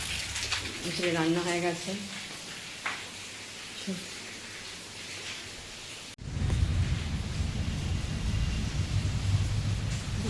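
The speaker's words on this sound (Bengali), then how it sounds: "বৃষ্টি পড়লে দেখুন এখানটায় এত বৃষ্টি পড়েছে যে বারান্দায় জল পড়ে গেছে।" Heavy rain pours onto a veranda beside a home kitchen, a dense steady hiss that rises suddenly after a stretch of talking and then continues loud and even to the end.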